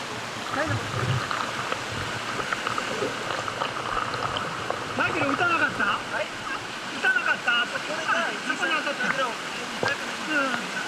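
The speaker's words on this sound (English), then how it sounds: "This waterfall is the biggest in the valley." Yukiwa no Taki, a 50-meter waterfall in a valley in Nanyo, Ehime, Japan, pours into its plunge basin with a dense, continuous roar of rushing water, loud and steady throughout, with faint chirps above it.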